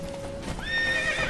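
Horse in The Witcher 3 video game, with hoofbeats clip-clopping at a gallop and a clear, fairly loud neigh rising over them partway through, over steady game background sound.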